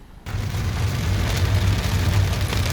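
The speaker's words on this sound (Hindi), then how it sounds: "आ गई बारिश इधर भी।" Heavy rain drums steadily and loudly on a car driving up a mountain ghat road on a road trip in India, a dense continuous wash that begins abruptly, with no talking.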